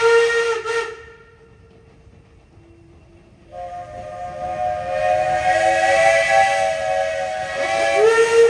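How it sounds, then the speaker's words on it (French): A steam locomotive, the LT3, sounds its whistle near a station at an open-day heritage railway: a short blast, a pause of quiet hiss, then a long, loud, sustained multi-tone whistle ringing out for several seconds before easing off. "Avec son sifflet, la LT3 signale son retour en gare."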